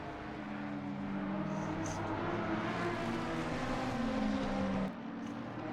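V8 and V12 race car engines, a 5.4-litre V8 against a 6-litre V12, in a sim racing game at Spa; a continuous, loud blend of engine drones with shifting pitches, steady throughout with a brief dip near the end.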